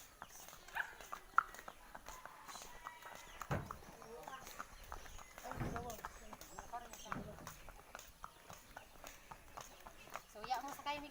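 Horses walking at Barangay Trigos, their hooves knocking in sparse, uneven clip-clops at a moderate distance while people talk throughout and a dog is faintly heard.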